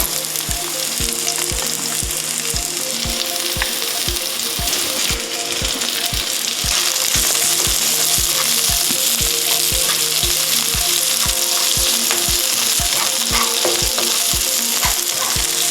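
Onions sauteing in a pan give a loud, steady sizzle and frying hiss, broken by regular clicking taps from stirring that repeat through the whole stretch, with no voices.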